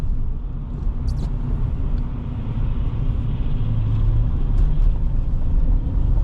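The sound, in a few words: 2025 Chevy Silverado 1500 LT pickup truck driving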